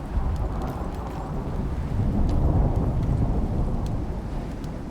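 A thunderstorm in the survival video game ICARUS gives a dense, continuous low rumble with rain hiss, swelling slightly midway and holding steady throughout.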